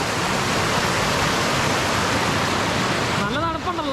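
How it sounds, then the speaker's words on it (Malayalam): Cold stream water rushing steadily at an elephant viewpoint, a dense continuous roar heard close and loud throughout, with a brief voice near the end. "അടിപൊളിയല്ലേ വെള്ളം ഇങ്ങനെ ഒഴുകിപ്പോണേ."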